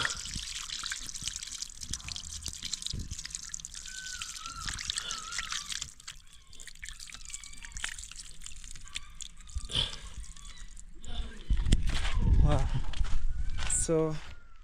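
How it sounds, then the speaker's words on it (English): Water splashes and trickles as hands are washed outdoors in Kenya, with dripping and sloshing close by, steps and some background activity mixed in, and a louder splashing burst near the end. "So let me wash my hand here."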